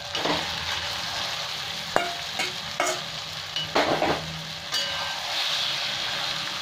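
Chicken goes into a pan of softened tomatoes and fries with a constant sizzle, while a spoon stirs and scrapes against the pan every so often.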